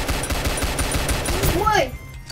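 A gun fires in rapid bursts in the Roblox game Ragdoll Universe, sharp repeated shots at close range, with a falling warbling game effect near the end and a voice talking over it.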